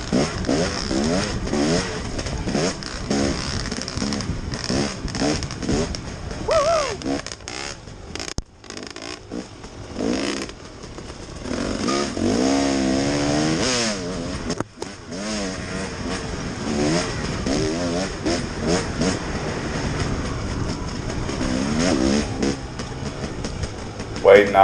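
A dirt bike tears through sand whoops during a SECCA race at Meridian, the engine revving and surging unevenly as it rises and falls over the bumps, loud and close throughout, with some wind buffeting.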